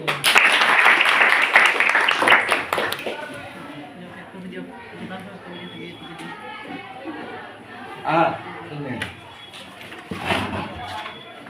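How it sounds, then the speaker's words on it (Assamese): Applause from a room of students at a book distribution event, a brief burst of clapping in the first few seconds that fades into murmuring chatter and speech. "এটা হাত চাপৰি"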